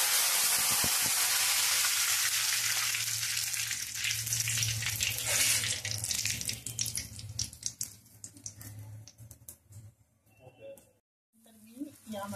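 Curry leaves dropped into hot oil for a brinjal dish burst into a loud, hissing crackle that fades over several seconds into a lighter sputter, with brief silence near the end.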